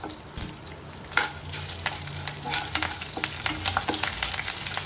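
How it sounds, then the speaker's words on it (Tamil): Spices and curry leaves splutter in hot oil, a busy close crackle of sharp pops and spits over a continuous fry, with occasional stirring scrapes and no talking. "அதான் எல்லாம் நல்லா பொரிஞ்சிடுச்சு."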